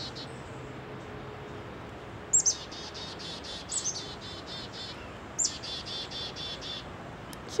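Chickadees being hand-fed outdoors give short bursts of high, rapid chirps, two or three quick calls in a row, over faint background noise with no talking.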